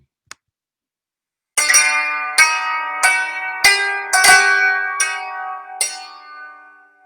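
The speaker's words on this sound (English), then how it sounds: "And this hijaz is something that I can play for you." Plucked string notes play a hijaz modal scale pattern, ringing out one after another in a slow, stepwise line, bright and resonant, each decaying before the next, after a single short tap.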